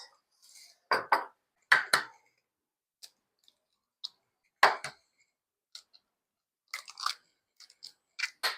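Two eggs cracked into a mixing bowl for old-fashioned soft sugar cookies, a few sharp separate taps and cracks with faint shell clicks and quiet pauses between, close and alone.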